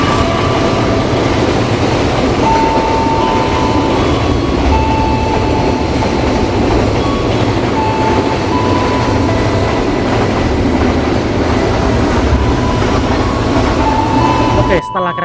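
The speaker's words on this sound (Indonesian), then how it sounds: "Di sini kita bertemu dengan kereta api barang." A container freight train passes through Haurgeulis station, a loud continuous rumble and clatter of wheels close by with faint squealing tones, sustained throughout the passing.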